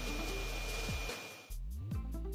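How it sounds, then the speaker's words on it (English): The self-emptying base of a Roborock S7 MaxV Ultra robot vacuum blows a loud, steady whooshing airflow, dips briefly, then resumes with whining pitch sweeps as it sucks the dustbin contents into its collector. "it'll actually go back to the base and empty itself out to vacuum all of its contents into the main dustbin collector. This part is actually really loud"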